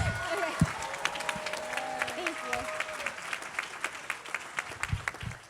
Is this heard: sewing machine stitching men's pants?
no